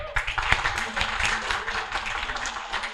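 Audience applause for a comedian at an Indonesian stand-up comedy battle, a dense, steady wash of many hands clapping with no clear gaps, fairly loud throughout.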